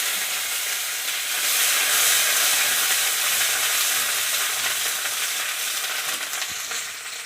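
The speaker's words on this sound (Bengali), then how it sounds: "কড়াইতে আমি আর একটু তেল দিয়ে নিয়েছি এবার পেঁয়াজগুলো দিয়ে দেবো পেঁয়াজ বাটা" Onion paste frying in hot oil in a wok, cooked for a village-style pakal fish curry, gives a loud, steady, close sizzling hiss that runs the whole time and eases off slightly near the end.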